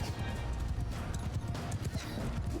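Cavalry horse hooves pound across a battlefield in the video game Mount & Blade II: Bannerlord, a dense rapid clatter of many hoofbeats with neighing and battle din, loud and continuous.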